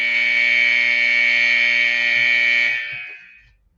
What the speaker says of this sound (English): the final buzzer goes to end Game 1 of the Eastern Conference Finals